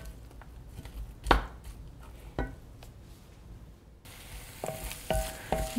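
Sliced onion sautéed in a pan for tomato sauce: a soft sizzle with scattered clacks of a utensil stirring against the pan, and the frying grows louder near the end.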